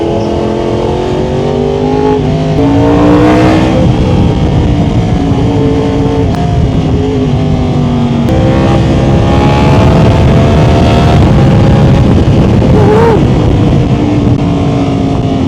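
A Yamaha R1 WGP 60th Anniversary sport motorcycle engine roars loudly throughout a long ride, its pitch rising and falling with throttle changes, with a harsh yet smooth tone and steady road noise.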